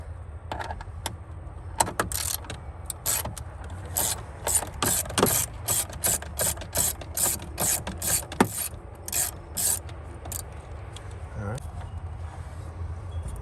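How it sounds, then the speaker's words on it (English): A 10mm socket wrench ratchets as it loosens the battery hold-down clamp on a 2021 RAM 2500, giving close, rapid clicking bursts in a steady series, with brief pauses and metallic rubbing between them. "So you get your infamous 10mm socket, drop it down in this area to remove the battery clamp."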